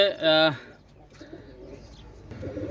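Teddy breed pigeons at a pigeon fair give a short, fairly loud coo at the start, followed by quieter soft murmuring and faint background activity nearby.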